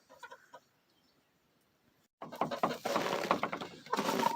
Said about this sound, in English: Good morning, chicken girls that we love.